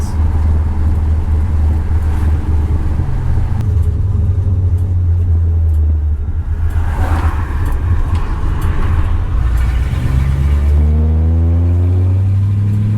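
A restored 1964 Ford Galaxie 500 engine hums and rumbles steadily while driving, with a rising rev partway through, loud and close throughout.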